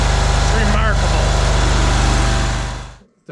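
A Briggs & Stratton engine on a Ferris ISX 3300 zero-turn mower idles with a steady, close, throbbing rumble, then cuts off abruptly near the end.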